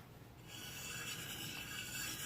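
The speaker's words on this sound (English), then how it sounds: "you're only going to be using the edges of this sharpening stone" A curved karambit knife blade rasps steadily across a sharpening stone, a close, even grinding rub that grows slightly louder after the first half second and continues without pause.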